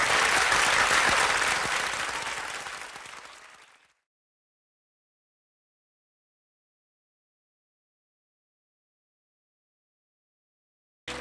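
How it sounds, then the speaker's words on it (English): A crowd applauding and cheering, a dense roar of clapping that starts loud and fades away over about four seconds, followed by silence. "The crowd shouts and cheers."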